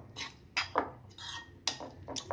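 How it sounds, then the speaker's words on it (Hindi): Egg being mixed in a bowl for Mughlai paneer paratha, with several short utensil clinks and scrapes against the bowl, close and fairly quiet, coming in irregular bursts. "पीछे इसे अच्छी तरह से मिक्स करेंगे।"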